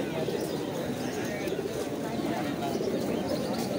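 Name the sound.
pigeons cooing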